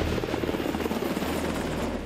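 A Coast Guard H-60 Jayhawk helicopter roars close and loud, its rotor and engine giving a steady, throbbing drone throughout with no talking.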